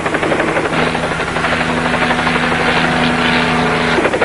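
Helicopter flying close alongside, a loud continuous rotor throb and engine whine with a steady tonal hum, held for several seconds.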